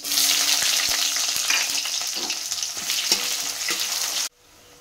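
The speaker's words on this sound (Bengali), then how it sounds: "এই ফোড়নের মধ্যে পেঁয়াজ কুচি দিয়ে দিচ্ছি।" Chopped onion hits hot oil seasoned with whole cumin seeds and bay leaf, giving a loud, steady, close sizzle with a few stirring clinks, cutting off abruptly just before the end.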